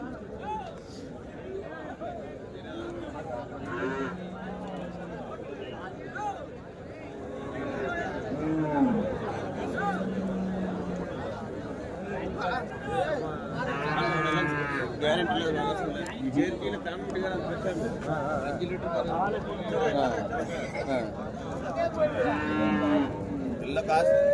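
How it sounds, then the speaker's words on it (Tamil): A cow moos at a busy native cattle market in Kuntharapalli, with several long, low calls over steady crowd chatter and nearby talking voices. "இங்கே ஒரு பசு மாடு இருக்குது பாருங்கள்"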